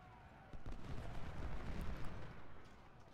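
Artillery fire from the Civil War strategy video game Ultimate General: Civil War, a dense rumbling barrage of distant cannon booms rolling continuously, with no talking over it.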